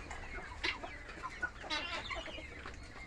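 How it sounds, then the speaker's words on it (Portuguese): Guinea fowl call with harsh, rapid clucking and chattering notes over a dense outdoor farmyard background of other birds. The calls are close and continuous for a few seconds. "A galinha da Angola."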